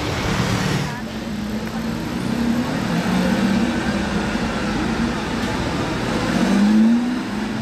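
A Maserati Stradale drives past on the street, its engine a steady throaty drone with a rising pitch toward the end, under traffic noise and people talking nearby.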